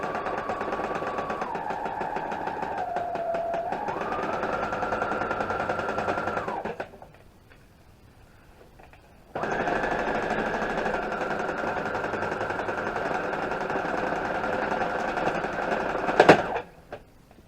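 A sewing machine stitches a free-motion quilted feather in two fast, steady bursts separated by a short pause, then ends with a sharp snap and clatter.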